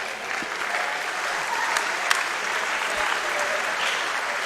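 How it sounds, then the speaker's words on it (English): Audience applause at the Mission Bouts boxing event, sustained dense clapping from a large crowd filling the venue, loud and steady throughout. "Let's give her a round of applause."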